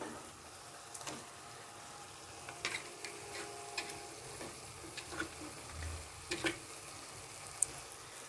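Ghee goes into keema frying in a pan with cooked-down garlic, onion and tomato, producing a faint, steady sizzle with scattered light clicks and stirring scrapes and no speech.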